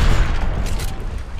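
Rapid gunfire bursts and booms from an in-game firefight, dense and continuous throughout at close range, with no talk over it.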